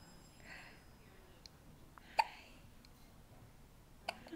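A baby hiccups softly indoors, a few short isolated hics spread apart, the loudest one near the middle, over a quiet room with faint breathing.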